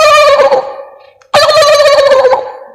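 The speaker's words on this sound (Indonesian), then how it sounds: "Iya, hewan kalkun" A turkey gobbles loudly and close up in two rapid, warbling bursts, split by a brief pause, with nothing else audible around them.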